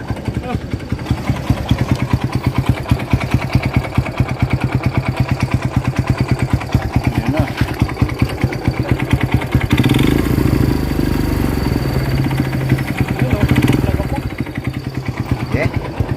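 A Barako 3 motorcycle engine fitted with a Yutaka exhaust pipe, reported as running noisily, idles with a rapid, steady thumping beat close by, briefly rising in a rev around the middle before settling back; people talk over it.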